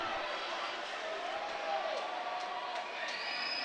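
Fans cheer from the stands at a 2012 FHSAA 1A high school state swimming final, a steady wash of distant crowd noise with scattered whoops and whistles under the indoor pool ambience.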